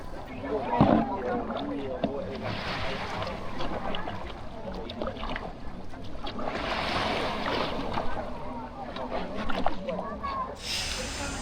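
A rented kayak is paddled on the sea off Phuket, with soft splashes and dripping strokes of the paddle beneath near continuous talk and a gentle wash of water.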